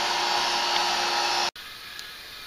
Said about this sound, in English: We're putting Freon in it.